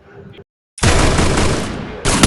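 Gunfire in the mobile battle game Free Fire: after a short lull, a loud sustained burst of rapid shots crashes in, then a second volley starts near the end.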